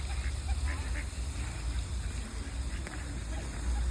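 Faint ducks quacking by the water, scattered calls over a steady outdoor rumble and wind, distant and soft.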